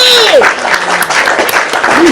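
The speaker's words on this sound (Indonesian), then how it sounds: "Tepuk tangan dulu" A church congregation claps hands in a short burst during a sermon discussion, dense and loud, with voices and shouts mixed in over the clapping.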